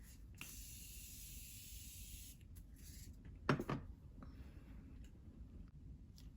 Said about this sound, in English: I'm going to be spraying my face just to set all my powders and my liquids together